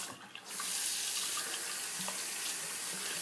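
Water tap running steadily into a sink while shaving brushes with silvertip and super fine knots are rinsed, a loud continuous splashing rush that starts up abruptly.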